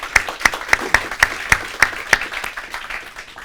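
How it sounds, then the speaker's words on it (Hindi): An audience at an Independence Day program claps in a regular rhythm, about eight sharp, evenly spaced claps close together, with quieter scattered clapping fading out afterward. "एक बार जोरदार तालियां बजा करके जरा हौसला बढ़ाइए"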